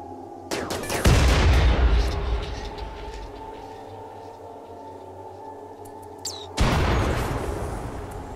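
Bursts of gunfire in the colony-building game RimWorld: a heavy, sustained volley erupting after a brief lead-in, rumbling on at a lower level, then a second loud burst near the end, with no talk.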